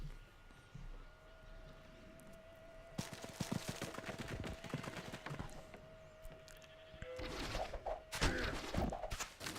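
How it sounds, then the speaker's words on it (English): Ranged units fire in the video game Civilization V: a quiet burst of rapid, crackling gunshots in a cluster, fading and then returning in a louder rattling volley near the end, over a faint steady tone. "They do like trying to shoot me."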